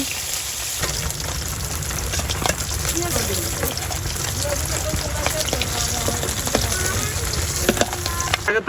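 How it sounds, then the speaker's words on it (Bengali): Small river fish (icha) frying in oil sizzle and crackle steadily and close, with sharp pops scattered throughout. "মাছগুলো ভাজা হয়ে গেছে, এখন নামিয়ে নিব।"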